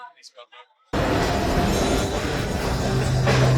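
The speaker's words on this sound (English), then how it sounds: "The train just went like it's testing." A brief voice, then a loud rolling rumble of a roller coaster train departing on a test run at Europa Park, with squealing wheels rising near the end.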